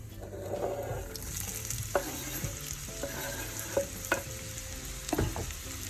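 Onions frying in a pan for anchovy pilaf, a steady close sizzle broken by several scraping stirs and clinks of a utensil, no voices.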